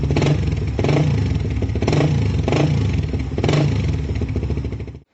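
A Suzuki GSX 150 motorcycle fitted with a DB killer silencer in a Vmax muffler revs hard, close and loud, in about four surging pulses over a steady idle rumble, with no talk.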